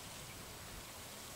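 Rain in the Stardew Valley video game, a soft, even hiss of falling water that stays quiet and constant, with no voices.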